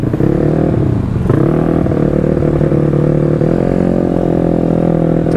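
A Yamaha Mio scooter tuned to 200cc and about 25 hp revs hard and steadily, loud and close, its engine note rising and falling with the throttle before climbing again and holding high.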